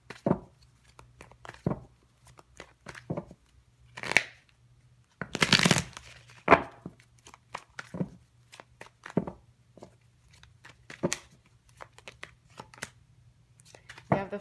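A deck of tarot cards is shuffled up close in quiet surroundings, with repeated crisp riffles, slaps and papery bursts coming in irregular clusters.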